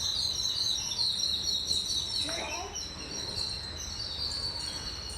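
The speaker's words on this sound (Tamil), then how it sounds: "படுத்துருக்க குருவிகள்கிட்ட சவுண்ட் கேட்டுச்சு" Sparrows chirp in a village in a continuous high twittering chorus, fairly faint over a steady background hum, with a short louder call partway through.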